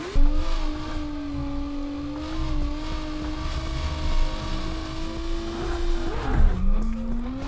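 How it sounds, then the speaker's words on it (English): A V6 drift car in BeamNG Drive revs hard with a loud, sustained engine whine that holds steady, then dips and climbs again near the end alongside brief tire squeal. "I'm sorry if this V6 is piercing your ears"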